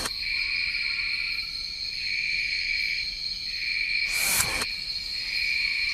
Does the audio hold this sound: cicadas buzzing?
yes